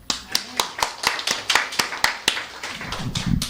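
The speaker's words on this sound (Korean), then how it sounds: "하나의 영광의 박수 올립니다." A church congregation applauds in a burst of rhythmic, fairly close clapping that holds steady for a few seconds, with some voices rising near the end.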